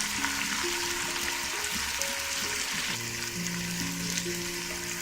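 Masala for kadhi pakora fries in a pan with a loud, dense, continuous sizzle, heard up close with no pauses and nothing else over it.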